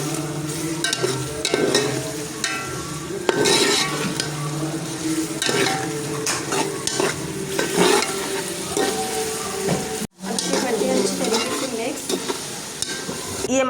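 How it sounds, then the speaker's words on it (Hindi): Masala with tomatoes and whole coriander frying in a pan, a steady close sizzle broken by stirring scrapes and spoon clinks against the metal. "ये मसाला अच्छे से भून चुका था।"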